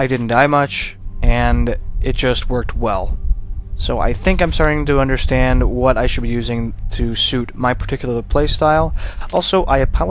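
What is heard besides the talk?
No everyday noises stand out.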